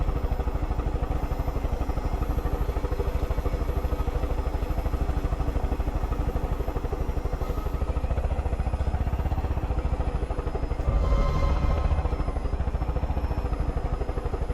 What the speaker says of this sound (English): I got me a helicopter with guns.